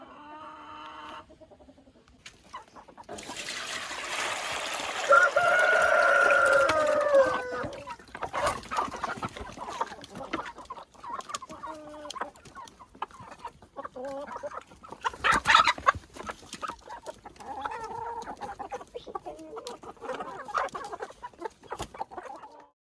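Master Grey chickens cluck steadily while being fed feed mixed with water, a loud burst of close clucking early on, then a busy, continuous chorus of hens.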